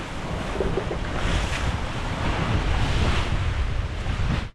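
Strong wind and sea waves roll against the coast of Ko Si Chang island, a continuous, loud rushing roar with buffeting wind noise on the microphone and no voices.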